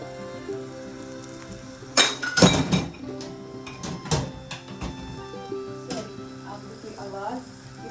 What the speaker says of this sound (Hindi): ये हमारे हाथ से हमारी एक कांच की बोतल गिरी